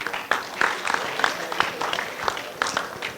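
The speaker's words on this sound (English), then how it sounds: "Can we have a round of applause?" Scattered applause in a lecture hall at a business event, individual sharp claps spaced out and not fully merged into a crowd roar, with some voices murmuring in the room.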